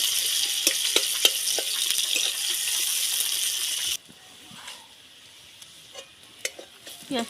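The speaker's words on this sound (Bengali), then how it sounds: "পেঁয়াজটা ভেজে নেব" Sliced onion frying in oil in a pan for a Rupchanda fish curry, a loud steady sizzle with scraping stirs and clinks, then dropping abruptly to a much quieter crackle with occasional utensil taps.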